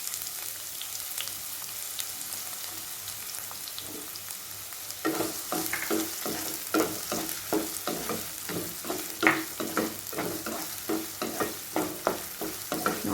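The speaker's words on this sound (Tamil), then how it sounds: "நம்ம சின்ன சின்னதாக கட் பண்ணி வச்சுருந்தா ஆனியனையும் ஆட் பண்ணி வதக்கிக்குவோம்" Chopped onion sautéing in oil in a pan for a capsicum onion curry, a soft steady sizzle joined midway by repeated rhythmic scraping and stirring strokes, close and alone with no talk.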